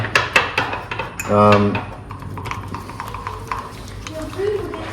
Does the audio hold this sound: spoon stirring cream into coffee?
yes